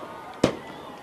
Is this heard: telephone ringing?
no